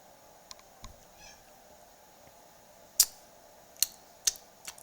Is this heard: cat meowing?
yes